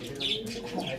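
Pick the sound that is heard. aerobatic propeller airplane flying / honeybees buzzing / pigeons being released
pigeons being released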